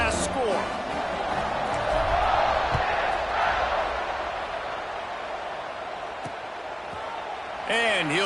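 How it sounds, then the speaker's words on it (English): Stadium crowd in the College Football 26 video game after a score: a steady, lively roar of fans under a play-by-play commentator's voice, with occasional whoops and cheers rising from the mass. "this crowd is buzzing after that last score."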